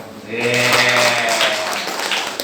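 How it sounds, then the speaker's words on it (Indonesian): Wedding guests and a church congregation break into applause during the ceremony vows, a steady clatter of many hands that swells and then fades under a sustained tone. "Oke, tepuk tangan dong."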